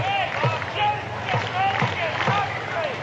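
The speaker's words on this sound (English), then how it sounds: "Crowd's been right into it here tonight. Unison clapping going on" A baseball crowd clapping in unison at a Winnipeg Goldeyes vs. Fargo-Moorhead RedHawks game, sharp claps falling in an even, steady rhythm from the stands while a commentator talks over them.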